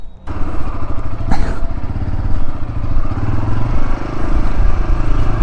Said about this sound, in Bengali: তো এই বাইকটাকে ঘুরিয়ে আমি আপনাদের দেখাচ্ছি একটু